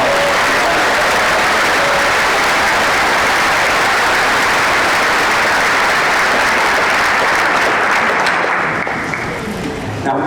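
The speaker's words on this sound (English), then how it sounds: "Give yourselves again a big round of applause." A large crowd applauds loudly and continuously for about ten seconds at a medical school commencement and hooding ceremony, a dense wash of clapping that thins slightly at the very end.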